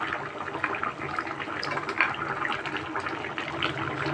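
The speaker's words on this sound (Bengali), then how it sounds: "এবার আমি ভেজে রাখা বড়িগুলো দিয়ে দিচ্ছি" Fried lentil dumplings dropped into a simmering drumstick and eggplant curry, a continuous close bubbling and watery burble with faint splashes, no talk.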